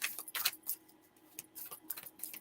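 Oracle cards are shuffled close up in quick, crisp bursts of riffling and slapping, with short quiet gaps between handfuls.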